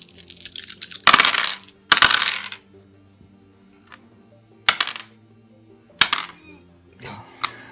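Dice for a Deadzone tabletop wargame rattle and clatter onto a hard surface in several sharp bursts, two close together early and more spaced out later, loud and close with quiet gaps between.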